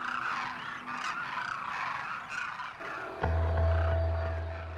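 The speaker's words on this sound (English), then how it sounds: "In the Thar, migratory flocks of Demoiselle cranes form superclusters in" A large flock of migratory Demoiselle cranes at a waterhole in the Thar desert, giving a dense, continuous chorus of calls at moderate distance, joined later by a steady low rumble.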